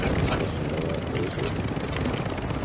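Loud, steady helicopter rotor drone throughout, dense and close, with some voices mixed in underneath, in the video game Warzone 2.0.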